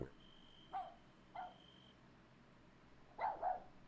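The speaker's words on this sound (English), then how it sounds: "Someone do something about that dog." A dog barks indoors during a police search, four short sharp barks from a moderate distance, spaced irregularly with two coming close together at the end, against a quiet background.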